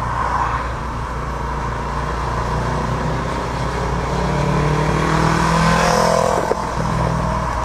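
The small engine of a Bellier B8 Cabriolet microcar drones and then builds as it accelerates past nearby, a steady rising roar with no voices.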